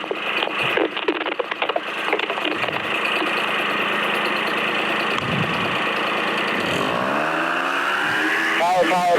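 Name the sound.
paramotor engine throttling up to full power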